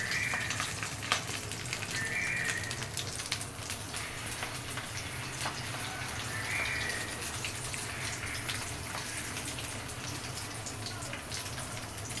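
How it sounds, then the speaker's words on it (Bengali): Fish roe fries in hot oil, making a soft, even sizzle with scattered tiny pops that stays steady and moderately quiet for the whole stretch. "এখন মাছের ডিম ভাজবো, এর জন্য তেল দিলাম।"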